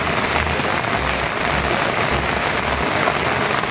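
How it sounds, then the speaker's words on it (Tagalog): Steady rain falls outdoors at a rural plantation site in San Francisco, Quezon, a dense constant patter drumming on surfaces and an umbrella close by, with no break throughout. "umuulan na"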